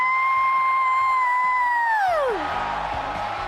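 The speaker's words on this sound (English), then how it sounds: "on the count of 3, scream really loud" Audience at a closing event screams loudly on cue, a sustained roaring yell from many voices that swells after a high held tone fades away.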